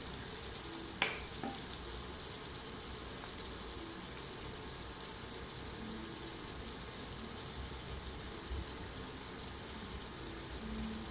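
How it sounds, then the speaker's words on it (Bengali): Beef pieces frying in a pan of lightly fried onions for a beef rezala, giving a steady, soft sizzle throughout with a brief clatter near the start. "পেঁয়াজটা আমি হালকা ভেজে নিয়েছি, এখন আমি এর মধ্যে মাংসটা দিব।"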